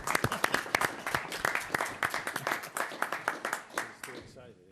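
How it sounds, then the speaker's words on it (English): A town board meeting audience claps after a motion carries, a run of sharp, uneven hand claps from a small group, moderately close and steady for several seconds before fading out. "Now, Ann, now you can clap."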